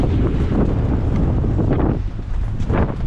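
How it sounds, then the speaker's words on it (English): Strong wind roars and buffets the microphone at sea as a storm approaches near a reef lagoon. Water and waves splash underneath the steady gusting. "You can't really tell on the camera, but it's really windy."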